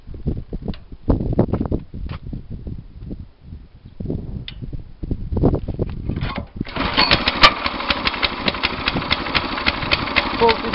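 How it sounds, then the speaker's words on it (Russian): An MBR 7-10 Rys motor cultivator engine is started after some talk and clatter, then settles into a loud, steady, even-pulsed idle close by for the remaining seconds. "Сейчас покажем, как он заводится."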